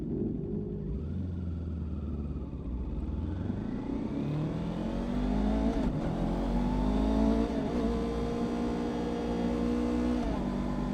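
Kawasaki Ninja 500 motorcycle ridden on back roads with a group of bikes, its engine rising in pitch, dropping off at a fumbled missed gear shift, then climbing again in a steady loud drone with other bikes rumbling nearby.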